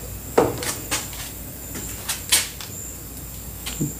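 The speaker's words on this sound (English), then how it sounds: "I'm going to try and find that door noise." Several short knocks and bumps of a door or cupboard being moved, spaced irregularly across a few seconds at moderate loudness, with no talking over them.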